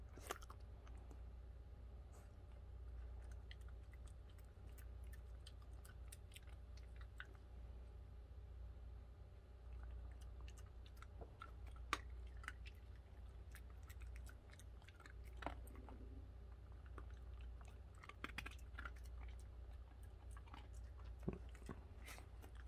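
A Basenji dog chews new dry dog food, with faint, steady crunching and wet munching over a low constant background hum.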